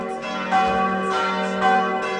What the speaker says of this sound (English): ancient bells of Kreutzenberg Chapel on the outskirts of Bonn summon the faithful to worship.